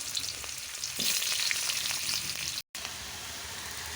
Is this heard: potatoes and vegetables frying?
yes